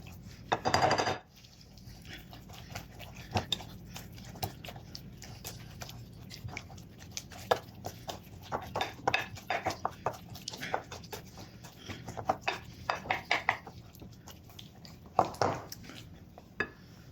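Christmas cake mixture being mixed in a bowl, with repeated soft clicks, taps and scrapes of a utensil against the bowl in an irregular rhythm, fairly quiet, with a louder burst near the start.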